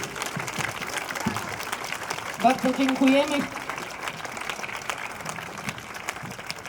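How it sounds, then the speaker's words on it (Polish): Applause from a street protest crowd against the lex TVN law in Szczecin, a short swell of clapping mixed with cheering that rises briefly and fades under ongoing talk from a speaker. "I tu brawa i oklaski dla nich."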